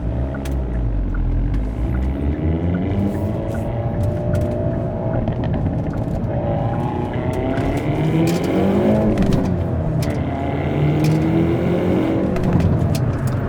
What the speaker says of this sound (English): listening to the pops every shift is awesome